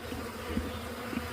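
Honeybees swarm a busy hive entrance in spring as the colony is unwrapped from winter, producing a steady, continuous close-up hum with faint rises in intensity and no voices.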